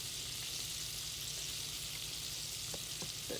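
Frozen okra frying in a pan gives a steady, hissing sizzle throughout, with a few faint clicks as the pieces are nudged around.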